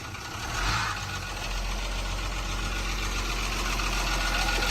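A bus's six-cylinder, 145-horsepower diesel engine idles with a steady low rumble and rhythmic knock, close and continuous, revving slightly early before settling.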